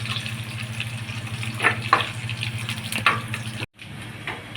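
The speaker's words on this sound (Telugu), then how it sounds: "మనకి పోపు అయితే ఎగిపోయిందండి." Tempering spices sizzle in hot oil for a jaggery rasam, a close, steady frying hiss broken by a few crackling spurts before it cuts off abruptly near the end.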